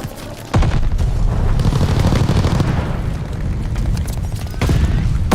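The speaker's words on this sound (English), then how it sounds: "Allied airstrike coming in hot." Airstrike explosions in the Call of Duty video game, a loud sustained rumble of overlapping booms and blasts starting abruptly and rolling on with fresh impacts near the end.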